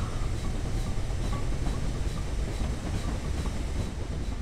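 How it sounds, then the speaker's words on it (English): Union Pacific Big Boy steam locomotive and a modern diesel-electric train in Train Simulator 2015, a steady loud rolling rumble of a long train running continuously with faint rail clatter and no talk. "Modern diesel electric meets steam."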